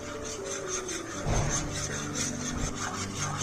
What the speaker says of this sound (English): So now I need to whisk it.